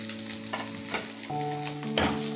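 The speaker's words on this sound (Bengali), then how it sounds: "এটা নেড়ে চেড়ে নেবো। 2-3 মিনিট নাড়তে হবে, যেন কাঁচা ভাবটা চলে যায়।" Capsicum, cabbage, white onion parts and carrot sizzle and hiss as they are stir-fried for veg Hakka noodles, with steady frying noise broken by several stirring scrapes and clanks, close and fairly loud, no talking.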